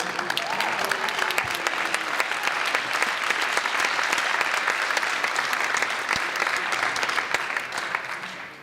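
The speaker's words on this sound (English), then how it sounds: "I figured if there was one line I was going to get a round of applause on" Audience applause at a Chabad auction and gala dinner, continuous clapping from a room full of guests, moderately loud and even, tapering off at the end.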